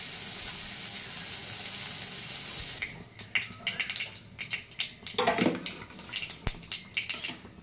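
Bitter gourd frying in a wok gives a steady hiss at first, followed by a rapid run of clattering knocks and stirring scrapes over continued sizzling.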